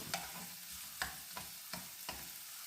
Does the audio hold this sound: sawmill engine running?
no